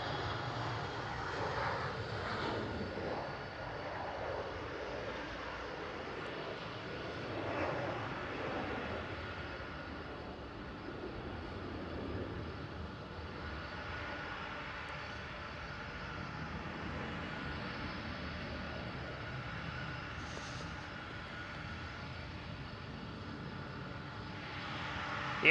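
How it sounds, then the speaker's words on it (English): A Hop! Embraer E170 jet airliner departs from Amsterdam Schiphol, a moderate, sustained engine roar carrying on steadily at some distance and swelling gently at times. "Hop with the E170 is departing"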